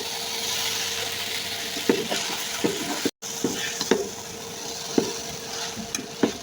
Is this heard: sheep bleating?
no